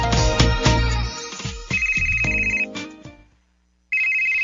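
A phone ringtone plays loud and close for an incoming call, a repeating melodic tune that stops briefly into silence before ringing again, with no talking over it.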